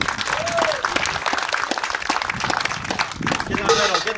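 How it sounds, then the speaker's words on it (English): A crowd at Elizabeth Castle in Jersey applauds a cannon crew with dense, steady clapping that stays loud throughout, a few voices rising over it. "Give these brave men a big round of applause."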